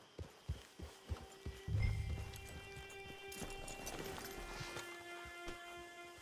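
Horse hooves in Red Dead Redemption 2 Online clip-clop at a steady walking pace, then give way to a low rumble and sustained tonal game music.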